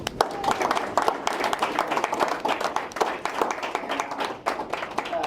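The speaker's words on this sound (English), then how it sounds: "let's clap it up for each other" Applause from attendees at a live behavior analysts' event, a steady patter of many hands clapping at moderate distance for the whole stretch, with some voices mixed in.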